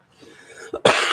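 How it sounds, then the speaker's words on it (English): A short throat sound leads into one loud, harsh cough close to the listener, after a quiet start. "Still have a little cough."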